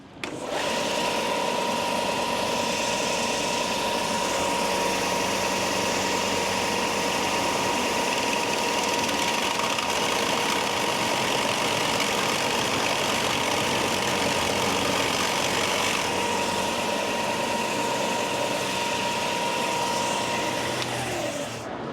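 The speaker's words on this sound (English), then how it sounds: "we're going to go to the grinder and take a little bit off this side" A grinder runs steadily for about twenty seconds, taking metal off the heavy side of a part. It gives a constant, fairly loud motor whine and hum with no break and no voices.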